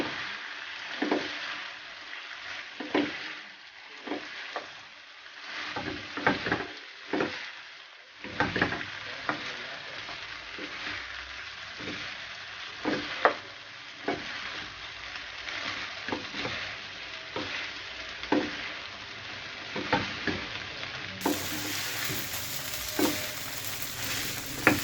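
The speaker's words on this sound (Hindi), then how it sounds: "आप पास्ता शामिल कर देंगे हम, अच्छे से मिक्स कर देंगे।" Pasta is stirred into a sizzling pan of chicken, with steady frying hiss under repeated scraping and knocking of a spoon against the pan, close up and with no talk.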